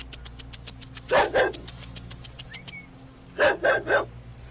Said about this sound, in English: We have a loose dog that's around the scene